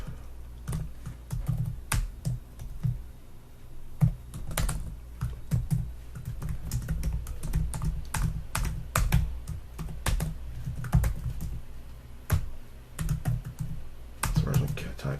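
Computer keyboard typing at a desk while entering code, steady bursts of close key clicks with brief pauses, continuing alone with no talking.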